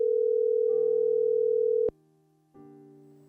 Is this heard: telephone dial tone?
yes